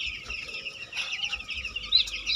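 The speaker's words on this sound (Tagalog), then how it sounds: "5 days na po ang aming sisiw." Five-day-old chicks cheeping in a crib indoors, a steady chorus of thin high peeps, close and fairly soft, with no talking.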